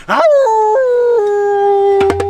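A loud, close wolf howl for a Little Red Riding Hood fairytale retelling rises and holds in long stepped tones, then breaks off into a few sharp yips at the end.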